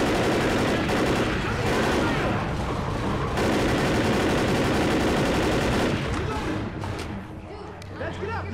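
Dense, continuous gunfire in the Left 4 Dead zombie shooter, loud rapid bursts and cracks sustained almost throughout, easing slightly near the end, with game voices mixed in.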